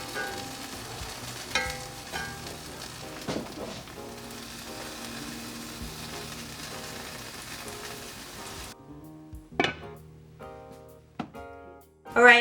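Buttered croque monsieur sandwiches fry on a griddle under a lid, giving a steady, close sizzling hiss that cuts off partway through, leaving a quieter kitchen with a few sharp clinks and taps.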